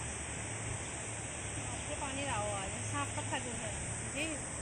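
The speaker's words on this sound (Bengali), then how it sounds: "এই যে পানি যাইছে" Near a pond after overnight rain, floodwater pours away in a steady hissing rush while a voice speaks over it close by.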